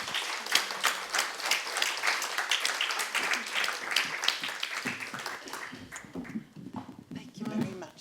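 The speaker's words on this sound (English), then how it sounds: "a little applause for them" Audience applause for finance panelists at the close of a women-in-finance panel discussion, a dense wash of clapping that thins out toward the end, with voices murmuring underneath.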